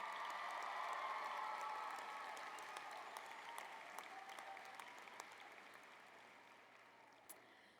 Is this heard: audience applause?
yes